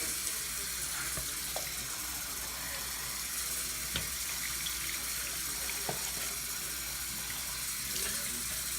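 Tap water running steadily while conditioner is rinsed out of hair, a continuous close hiss with a few faint knocks and splashes.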